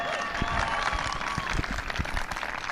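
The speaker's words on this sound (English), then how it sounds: "Give Sophie a big round of applause." Crowd applause and cheering at an astronomy night event at the White House, a dense, lively clapping wash with some voices mixed in throughout.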